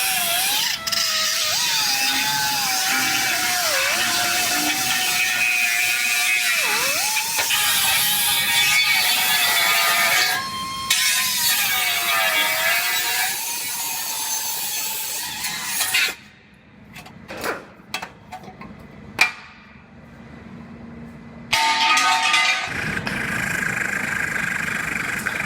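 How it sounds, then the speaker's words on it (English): A power cutting tool slices a Jeep frame cross member in half, giving a loud, steady high whine with brief pitch dips for about sixteen seconds, then quieter clanks and scraping, before the whine resumes near the end. "I'm just gonna cut this cross member in half and get this out of the way"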